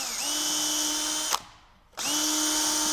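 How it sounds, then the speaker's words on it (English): A power drill boring an 1/8 inch pilot hole into a wooden joint for attaching feet, a loud steady high whine that cuts out briefly midway, then spins back up at full speed. "we're going to drill a hole so it doesn't split the joint with an 1/8 inch drill bit"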